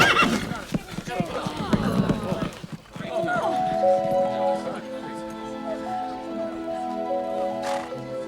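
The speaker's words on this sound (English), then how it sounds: "There are horses rampaging all over the neighborhood." Horses whinny and gallop through a neighborhood, a loud neigh and pounding hooves at first, then a long sustained whinny over steady rumbling, with voices mixed in.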